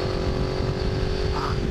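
A Honda CX 500 cafe racer motorcycle engine with open velocity stacks drones loud and close while riding uphill, a steady throbbing note that holds throughout.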